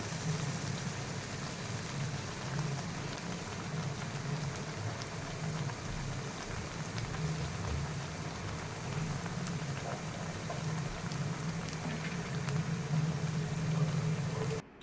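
Bolly papad pieces dipped in batter and deep-fried in hot oil, giving a steady, even sizzle and bubbling that runs unbroken throughout at moderate loudness.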